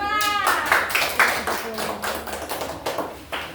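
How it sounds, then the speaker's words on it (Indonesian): Applause for a children's group at an Islamic school class presentation, a burst of many small hands clapping close by with irregular taps fading and restarting over a few seconds. "Kembali kasih aplaus ya"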